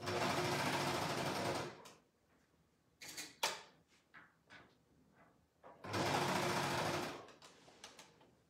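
A domestic sewing machine stitching baby slippers runs in two long steady bursts of rapid mechanical whirring, with quieter clicks and handling knocks between the runs.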